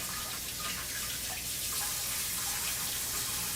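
Tap water running in a kitchen sink, giving a quick rinse to a bowl or utensil while making ube cookies, a steady close hiss of flowing water with light splashes and no talking.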